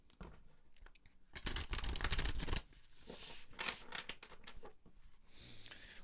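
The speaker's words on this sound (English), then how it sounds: "One more shuffle" An Angel Wisdom Tarot deck is shuffled by hand in quiet, close, papery riffling bursts, with one longer, louder flurry partway through.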